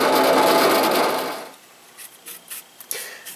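A drill bores through a 2007 Triumph Speedmaster motorcycle chain guard with a loud, harsh grinding burst for about a second and a half, followed by a few faint scraping and handling taps.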